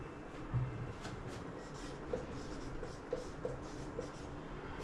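Pen or pencil writing on paper during a grade-school maths lesson gives a soft, continuous scratching with a few light taps. It is faint and close, with no talking.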